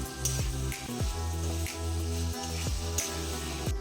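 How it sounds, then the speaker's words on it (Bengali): Boiled chickpeas frying with spices on a low flame, a soft continuous sizzle with occasional light stirring clicks from a utensil in the pan. "এবার মশলার সঙ্গে ছোলাও 1-2 মিনিট লো ফ্লেমে কষিয়ে নেব।"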